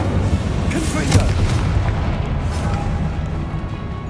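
A Confringo blasting curse explodes in Hogwarts Legacy, a dense, loud booming roar with a sharp burst near the start that rumbles on without a break for about four seconds.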